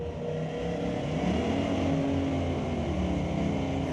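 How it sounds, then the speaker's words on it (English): Powerful Audi car engines roar as they accelerate down a drag strip at Mission Raceway Park, pitch climbing steadily, heard from a distance with a constant loud drone. "I gotta mention the sound of those Audis is so nice"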